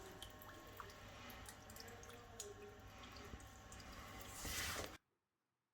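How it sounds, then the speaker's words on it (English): Coolant pouring and splashing onto a freshly padded engine bay of a Mercedes W123 with an M110 engine, about 3.5 litres, a steady close wet patter that swells into a louder gush before cutting off abruptly. "Here's the newly padded engine bay getting a coolant shower."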